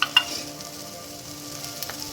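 Potatoes frying in a pan with turmeric and salt give a steady, close sizzle throughout, with a couple of brief sharp clicks near the start.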